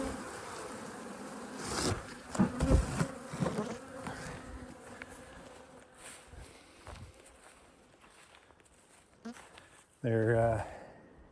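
Honey bee colonies buzz steadily during a hive inspection, a soft insect drone running beneath people talking close by, with a few handling knocks and a louder burst near the end.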